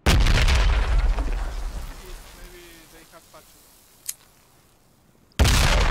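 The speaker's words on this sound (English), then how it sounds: "Grenades coming over." Grenade blast in Project Reality, a loud booming explosion that decays into rumbling debris and faint crackles, followed by a sharp distant pop and then another loud burst at the end.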